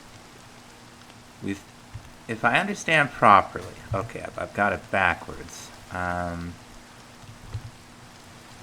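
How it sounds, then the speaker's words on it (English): Steady rain falls in a video game colony during rainy wintertime, a constant soft hiss running beneath a person talking throughout. "rainy wintertime in the colony."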